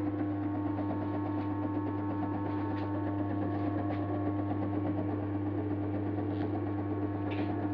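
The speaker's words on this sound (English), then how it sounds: "I'm going to slow down the motor." A permanent magnet motor driven by an inverter from a 220-volt supply runs steadily, giving a continuous low hum and electrical whine with faint pulsing, close and even, with no talking.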